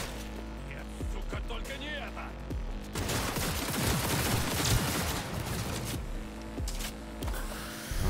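Gunfire in Cyberpunk 2077: sharp shots at the start, then a dense burst of rapid fire and impacts, with game music and voices running underneath.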